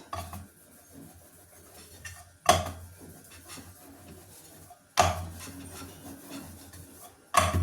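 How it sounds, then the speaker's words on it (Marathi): Wheat flour and jaggery dough is rolled on a wooden rolling board, giving soft repeated rubbing strokes broken by three louder knocks as the pin or board shifts, close and without talk. "पोळपाटवर आता गोळा ठेवायचा आणि लाटायला सुरुवात करायची आपल्याला"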